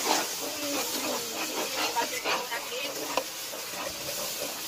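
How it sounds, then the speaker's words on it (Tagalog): Melted sugar and coconut milk stirred in a pan for Filipino coco jam, giving a steady soft scraping and bubbling sizzle with faint utensil scrapes throughout, close and moderately quiet. "Haluin lang natin ang haluin hanggang sa lumapot."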